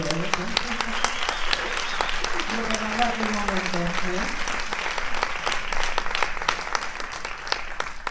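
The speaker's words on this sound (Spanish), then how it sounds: "Emma, un aplauso más que merecido" A festival audience at a film screening Q&A in Barcelona applauds a guest for about eight seconds, a dense, steady wash of clapping from a crowd, with a voice speaking over it.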